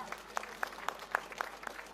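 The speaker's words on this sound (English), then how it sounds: "Come on, another big round of applause for Dominic." Sparse clapping from a small crowd at a British farmers' protest against inheritance tax in central London, individual claps sounding in a loose, steady rhythm at moderate distance, with no voices over it.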